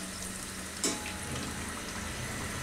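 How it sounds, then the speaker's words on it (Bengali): Pieces of chicken nimki deep-fry in hot oil with a constant, close hissing sizzle, and a brief clatter of stirring breaks in near the start. "তারপর উল্টায় উল্টায় পছন্দ মতো বাদামি করে এগুলাকে ভেজে নিব"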